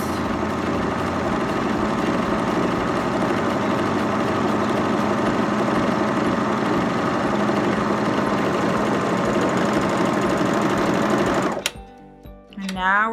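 A Baby Lock Vibrant sewing machine stitches rolled-edge pintucks with a loud, steady, fast mechanical hum for about eleven seconds, then stops abruptly, leaving a few clicks and quiet handling sounds.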